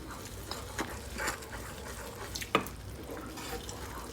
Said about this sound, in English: And we're gonna allow this to simmer.